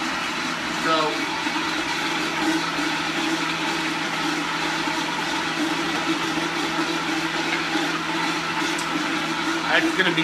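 A Vitamix blender whirs steadily while making a smoothie of fruit and other ingredients, a continuous loud motor drone with a steady low hum running the whole time, close up and alone.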